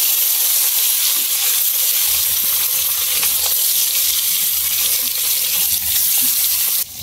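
Loud, continuous close-up sizzling of cauliflower and potato frying in a pan with turmeric-and-salt-rubbed fish, a dense hiss with faint stirring scrapes throughout.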